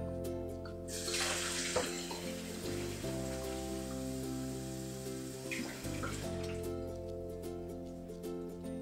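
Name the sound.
water being added to horse treat mixture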